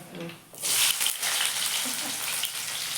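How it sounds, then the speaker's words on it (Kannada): Tempering for a vegetable palya hits hot oil and bursts into a loud sustained sizzle after a brief quieter moment, close to the listener and continuing steadily to the end. "ಏ ಈಗ ಒಗ್ಗರಣೆ ಕೊಡಕತ್ತ್ಯಾ"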